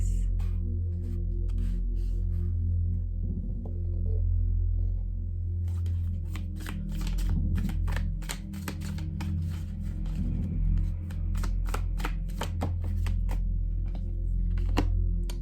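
Tarot cards are shuffled under a steady low hum, starting quietly and then turning into a quick run of crisp riffling flicks and taps over the last ten seconds.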